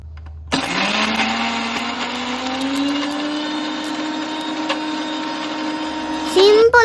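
With its lid closed, a mixer grinder grinds chutney with tamarind and salt, starting with a rising motor whine. It holds a loud, steady drone for about six seconds, then rattles and shifts pitch near the end.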